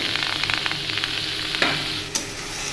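Crushed onion, ginger and garlic hit a hot pan with no oil and sizzle loudly and steadily, broken by a few sharp scraping stirs near the end; no one speaks.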